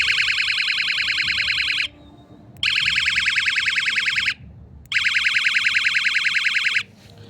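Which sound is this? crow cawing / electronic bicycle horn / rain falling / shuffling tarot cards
electronic bicycle horn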